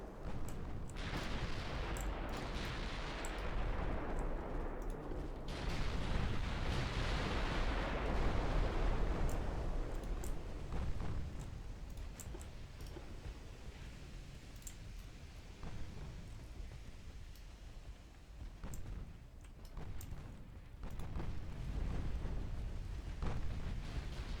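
Torpedo hits in the naval warfare game Ultimate Admiral Dreadnoughts rumble as a series of deep, sustained explosions, with two loud surges early on followed by a quieter churning roar and another swell near the end.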